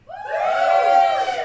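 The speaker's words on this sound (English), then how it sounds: "Give us a cheer if you think the moon is real" A live audience at a conspiracy-theory podcast recording lets out a loud burst of cheering and whooping, a brief swell of many voices rising and fading within a second and a half.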